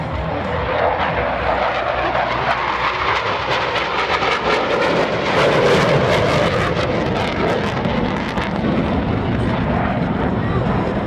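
US Navy Blue Angels jets in flight at the 2017 Millville Wheels and Wings Airshow, a loud continuous roar of jet engines filling the whole stretch, with a faint announcer voice underneath.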